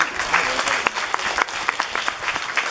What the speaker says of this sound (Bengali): জয়ের জন্য একটা হাততালি।